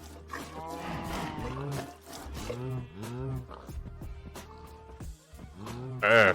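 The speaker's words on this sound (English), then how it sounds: "Hope that there are still cows out here that have milk in them." Cows in Minecraft's Project Ozone modpack moo in a series of loud, drawn-out lowing calls close by, while a player talks over them.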